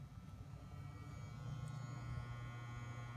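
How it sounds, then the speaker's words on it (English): A 400-watt metal halide lamp ballast in a US Pole canopy fixture gives off a steady, low electrical hum, constant and faint, with no voices over it. "The ballast has a very nice hum to it."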